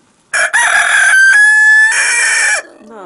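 A loud, close rooster crow, one long call with a rising, held middle and a drawn-out end, followed by faint clucking.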